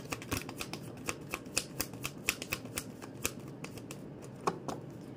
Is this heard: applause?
no